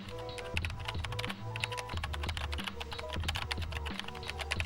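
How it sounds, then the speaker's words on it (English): Loud keyboard typing from the anime Serial Experiments Lain, a father hammering keys in rapid, dense clicks over a low electronic hum, continuous and close with no voices. "a father loudly typing on his keyboard ignoring his child"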